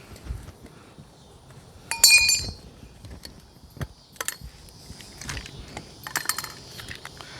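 Plastic and metal parts of a generator cover kit are pulled apart by hand, giving scattered clicks, light clinks and rattles, with one louder clatter burst and several sharp snaps, fairly close and with no talking.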